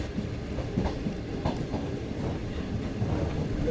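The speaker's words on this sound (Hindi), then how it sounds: "ट्रेन हमारी इस वक्त कोट राधा किशन को स्किप कर रही है" The Pak Business Express runs from Lahore toward Karachi near Kot Radha Kishan, heard from inside an AC Standard coach as a steady, continuous rumble with a faint clickety-clack of wheels on rail.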